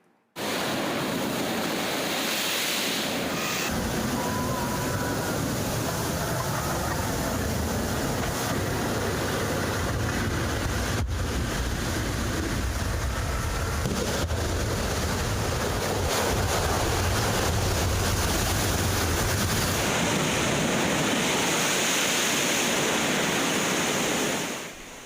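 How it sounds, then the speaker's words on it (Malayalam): Strong sea surge from a swell-driven flood event pounds the shore at Poonthura, Thiruvananthapuram, a loud continuous roar of crashing surf and rushing water that holds steady throughout with no voices. "പൂന്തുറയിൽ കരയിലേക്ക് കടൽ കയറി."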